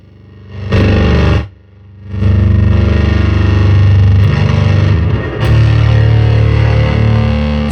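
A heavily distorted electric guitar through an unshielded Electro-Harmonix Ram's Head Big Muff fuzz pedal rings out in sustained fuzzy chords with extra noise, cutting off briefly before droning on loud and thick.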